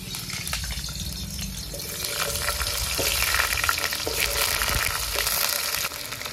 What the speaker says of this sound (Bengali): তেল গরম হয়ে গেছে, এখন আমি আলুগুলো দিয়ে দেব।